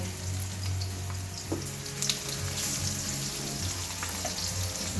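Onions sautéing in a pan beside string beans being cooked for adobo, a steady sizzle with a low hum underneath and a few faint clinks of a utensil.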